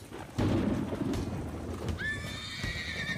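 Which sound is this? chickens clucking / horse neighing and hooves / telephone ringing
horse neighing and hooves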